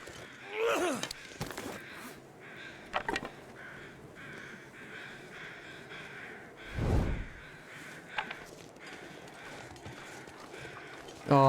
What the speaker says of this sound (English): I think I hear more crows